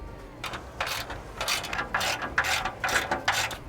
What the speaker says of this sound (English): as you're torquing down these 3/8 bolts